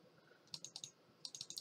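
Rapid mouse clicks in a prison escape video game come in two quick bursts of sharp, light ticks, faint and close, with no talk.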